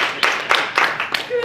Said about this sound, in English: let's give Brenda a round of applause and welcome her to Troy Rotary